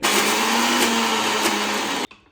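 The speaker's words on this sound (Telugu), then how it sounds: "ఇప్పుడు దీన్ని ఒక మిక్సీ జార్లో వేసుకొని మనం పచ్చాగా గ్రైండ్ చేసుకోవాలి" Soaked moong dal grinds coarsely in a mixer grinder jar, a loud steady motor whir that runs for about two seconds and then cuts off abruptly.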